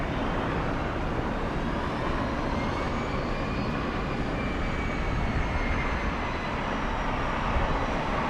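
A Lufthansa airliner taxiing toward Tom Bradley International at LAX gives a steady, broad jet-engine roar that holds at one even loudness from start to finish.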